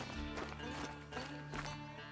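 Footsteps of a rabbit in theHunter: Call of the Wild, a few soft irregular thumps on the ground over a low steady hum, close by and with no talking.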